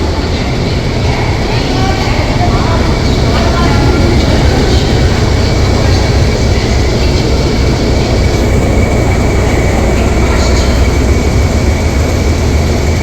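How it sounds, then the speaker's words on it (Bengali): The Maa Tara Express, a passenger train standing at platform 9 of Sealdah station, rumbling loudly and continuously with steady engine drone, platform hiss and faint clatter throughout. "আর এই হচ্ছে মা তারা এক্সপ্রেস"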